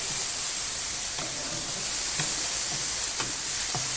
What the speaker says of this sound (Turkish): Şöyle biraz kavrulacak.